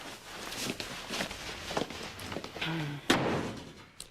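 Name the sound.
door being shut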